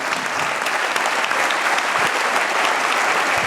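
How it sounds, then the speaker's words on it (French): Dense, sustained applause from a gala audience celebrating an anniversary evening, many hands clapping steadily and loudly with no gaps for the whole stretch. "Applaudissez-la, elle est magnifique."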